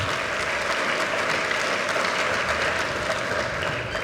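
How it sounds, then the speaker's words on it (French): An audience at an official ceremony handing out kits to programme beneficiaries applauds them in a loud, continuous wash of clapping that stays even throughout, with no voice on top. "je tiens à ce qu'on puisse vous féliciter et applaudir pour nous"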